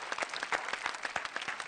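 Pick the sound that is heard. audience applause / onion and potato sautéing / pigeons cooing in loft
audience applause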